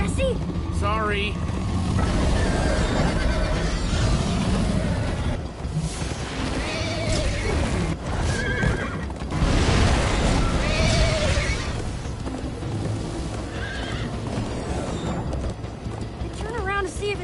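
Galloping hooves clatter steadily through a Minecraft Story Mode chase, joined by occasional whinnies, mechanical clanks and booming hits, with voices talking over parts of the action.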